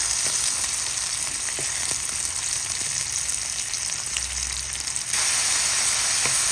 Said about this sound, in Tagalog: ginigisa ko na po ang ating sibuyas at ang ating bawang